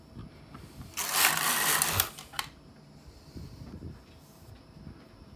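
A knitting machine carriage is pushed across a full row of needles knitting in a secondary color, a loud close whirring clatter lasting about a second, then a clack and quieter mechanical ticks afterward.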